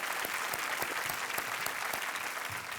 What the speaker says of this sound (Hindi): हम आपका अभिनंदन करते हैं तालियों के साथ